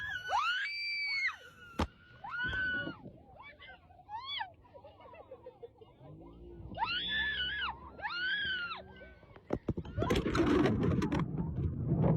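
People scream repeatedly and shrilly, with several drawn-out, wavering shrieks separated by pauses. A burst of loud, chaotic noise follows at the end.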